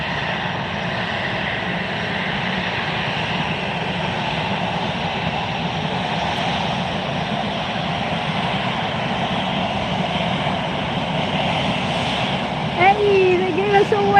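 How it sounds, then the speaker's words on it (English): A WestJet jet airliner taxis for departure at Fort Lauderdale, giving a steady, loud engine roar and whine that holds throughout, with a brief higher tone near the end. "Here's your WestJet taxiing up now for departure."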